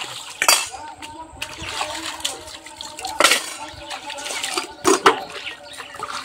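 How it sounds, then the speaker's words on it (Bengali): Kitchen items rinsed in pond water, with irregular splashes, sloshing and light clatter rising in short bursts against a soft watery background, and a voice faintly present. "একটু ধুয়ে নেই এগুলো।"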